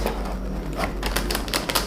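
Fingers type on a HyperX Alloy FPS Pro mechanical keyboard with Cherry MX switches, producing a steady run of close, crisp key clicks over a low hum, with no speech.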